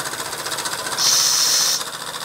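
Steam hissing from the whistle of an American Weeden 500 model steam engine, a steady breathy hiss that swells abruptly for about a second over a softer background chug, without a clear whistle tone.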